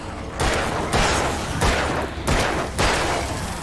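Four heavy gunshots ring out in the video game Alan Wake, roughly evenly spaced about two-thirds of a second apart, each a loud booming blast with a short decaying tail and no talk.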